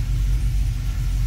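A Chevrolet Camaro SS, fifth generation from 2010 to 2015, idles in neutral right after starting, with a steady low engine rumble close by and no voices.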